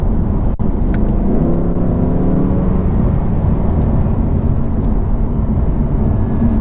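A 2019 Audi R8 supercar accelerates at full throttle, its engine a loud, steady roar with a rising note, heard from inside the cabin with no talking.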